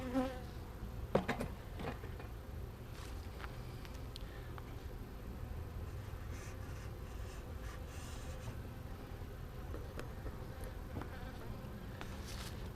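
Honey bees buzz around an open hive during routine hive work, a faint steady insect drone with occasional closer passes and light scraping or handling noises, and no one speaks.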